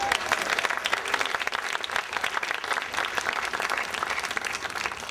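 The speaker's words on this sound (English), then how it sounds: "Let's give them another round of applause." Sustained, dense audience applause at a student-movement commemoration event in Atlanta, steady and fairly loud throughout, with no speech over it.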